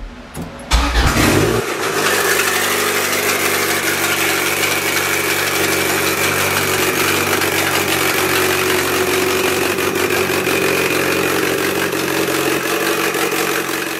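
A car engine cranks briefly with the key, catches and settles into a steady, loud, close idle that continues evenly to the end.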